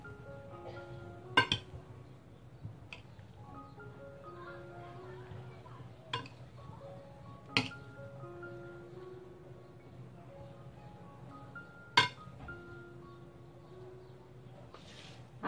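Cabbage salad is mixed in a bowl, with sparse, sharp utensil clinks against the bowl every few seconds over soft background music.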